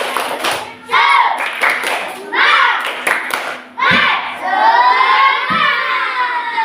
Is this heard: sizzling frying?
no